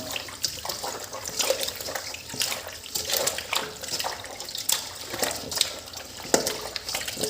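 Salted catfish washed under water at home to rinse off the salt: running and splashing water with repeated sharp slaps and knocks of handling, close and uneven, with no talk.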